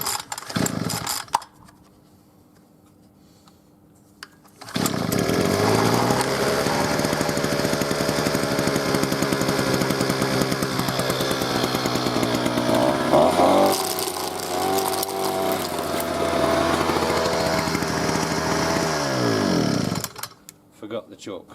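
Husqvarna petrol grass cutter engine coughing once, then after a quiet pause roaring to life and running steadily at high revs close by before cutting off, with a voice briefly in between.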